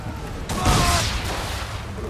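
A volley of gunfire from an Assassin's Creed 3 naval battle breaks out as one loud, broad blast, then rumbles and fades over about a second and a half, with faint voices beneath.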